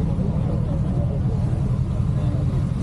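A little V50 motorcycle idles at an outdoor motorcycle meet, giving a low, steady engine rumble close by, with faint voices murmuring underneath.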